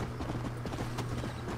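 Horse hooves clip-clop at a steady gait in the video game Red Dead Redemption, a rapid, even patter of hoofbeats under a low, continuous background hum.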